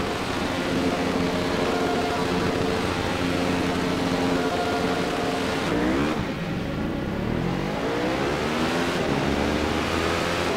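A Radical race car in an iRacing sim race roars at the start, its engine droning loudly and steadily before a sweeping upshift and renewed rising rev, with other cars' engines blended around it.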